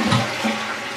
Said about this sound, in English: Flush and wash and be on your way.